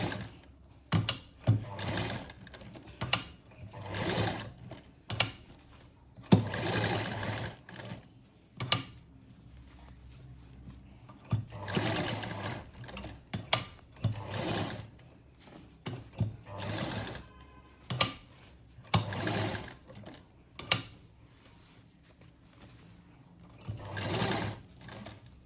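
Sewing machine stitching the neckline of a trendy cut-work blouse, running in repeated short bursts of fine stitching separated by pauses, close and clear with no talking.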